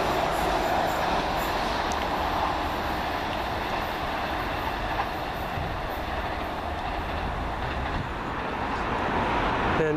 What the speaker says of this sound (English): the next train around the corner will be 2 Bravo 39 from London Waterloo to Poole